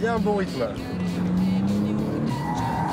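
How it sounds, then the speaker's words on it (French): A rally car's front tires squeal as the car slides, a sustained screech over the engine note while someone talks over it. "vous entendez les pneus qui hurlent, les pneus avant"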